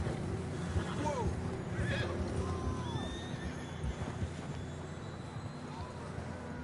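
Horses whinny and snort in Red Dead Redemption 2, several neighs rising over a steady background of hooves clip-clopping and ambient wind, moderately close and alone without talk.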